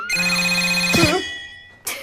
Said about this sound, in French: C'est juste mon téléphone qui sonne.